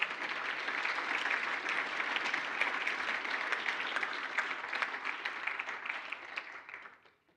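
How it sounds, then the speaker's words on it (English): An audience claps at a mathematics foundation awards function in South Africa, a broad, even roar of applause held steady for several seconds before fading out at the end. "Let's give a round of applause for all of us and everybody."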